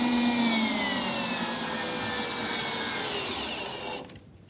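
A power driver whines steadily while a screw is driven into wood along a pilot hole, a continuous close motor tone that drops off abruptly near the end.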